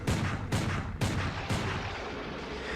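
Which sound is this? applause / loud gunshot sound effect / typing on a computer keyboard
loud gunshot sound effect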